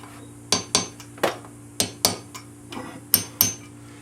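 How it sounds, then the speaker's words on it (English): Light hammer taps strike a socket seating valve parts on a Ford 302 engine from a 1990 F150 rebuild, about nine sharp metallic clinks in an uneven rhythm over a quiet background hum. "these are just light taps"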